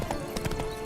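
Steady clip-clop of horse hooves at a brisk trot in The Witcher 3 video game, quick rhythmic hoofbeats heard close and clear over game ambience.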